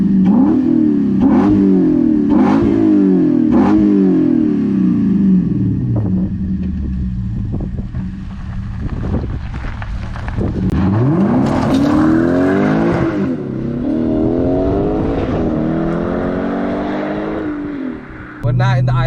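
A 2008 Lexus IS F (USE20) V8 sedan drives on the road and accelerates hard, engine note climbing through several gears with shifts between, loud and close from inside the cabin, with a brief tire chirp and voices partway through.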